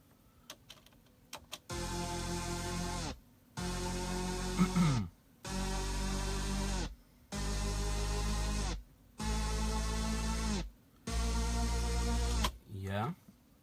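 Layered synth sounds with noise and a square-wave bass play as six loud sustained bursts, each roughly a second and a half long and split by short silences, with a descending pitch sweep at the end.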